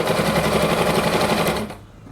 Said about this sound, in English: and then I will sew like so